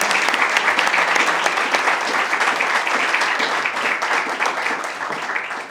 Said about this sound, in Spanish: con un fuerte aplauso y gracias por estar acá.